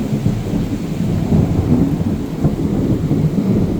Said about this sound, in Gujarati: વરસાદ તો છે પણ વીજળી બહુ થાય છે અવાજ તમે સાંભળી શકતા છો